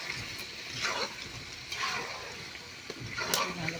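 Water pours into a pot of chicken cooking in a home kitchen in a few separate sloshing gushes, moderately close, with some background noise and a voice in the room.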